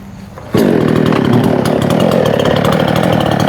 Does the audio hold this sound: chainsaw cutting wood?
yes